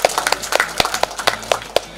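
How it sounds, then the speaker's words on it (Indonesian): Scattered clapping from a small audience at a book launch event, a sparse handful of sharp, uneven claps close by with no talking. "Tepuk tangan untuk DIY"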